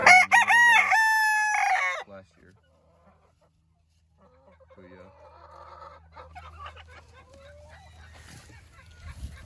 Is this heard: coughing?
no